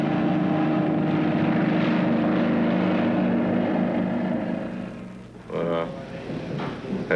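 A steady, loud helicopter engine drone dominates, with a low rhythmic rotor throb, fading slightly near the end as another engine sound rises.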